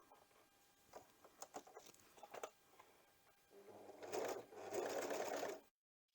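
A sewing machine stitches fabric for an upcycled dungaree dress, opening with a few short bursts and clicks, then running in a steady, moderately loud whir for about two seconds before stopping.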